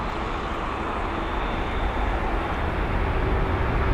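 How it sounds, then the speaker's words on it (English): A Royal Jordanian Boeing 787-8 Dreamliner taxis at London Heathrow, its engines making a low, steady rumble that builds slightly, heard from a distance with no voices. "Here's the Royal Jordanian 787-8 Dreamliner making a move as well."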